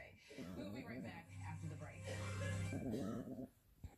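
A dog whimpers and growls in a low, strained rumble for a few seconds, close and fairly quiet, rising and falling in pitch with a short whiny edge.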